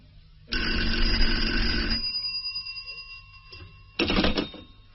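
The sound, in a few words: telephone ringing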